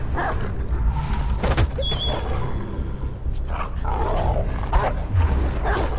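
A dog in the Beyond: Two Souls video game growls and barks aggressively amid chaotic game noise, rough snarling bursts scattered over a constant rumbling background.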